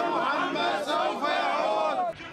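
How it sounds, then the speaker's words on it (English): Thousands of mourners chant in unison on the streets of Baghdad at Qassem Soleimani's funeral. The dense, loud wall of massed voices rises and falls in a steady rhythm. "God is great, America is evil, they chant"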